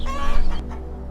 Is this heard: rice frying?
no